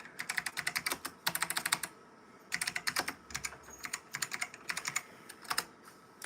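Typing on a computer keyboard that is on the fritz: close, crisp key clicks in quick bursts with short pauses between them, and no voices.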